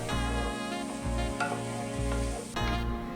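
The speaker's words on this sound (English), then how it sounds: "While the onions are browning" Onions browning in a pan give a steady close sizzle with faint stirring, and a low tonal hum runs underneath.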